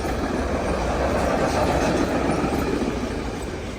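Freight train rolling past at night in Pratteln: a continuous, broad rumble and rattle of wagons, steady and moderately loud, fading slightly toward the end.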